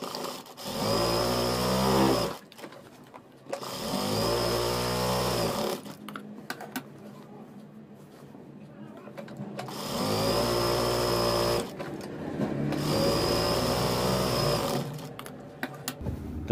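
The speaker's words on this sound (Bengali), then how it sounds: "ডাবল সেলাই করে দিয়ে নিব।" A sewing machine runs in long steady bursts of rapid stitching, double-stitching salwar seams, stopping and restarting with brief quiet handling noises between runs; no voices.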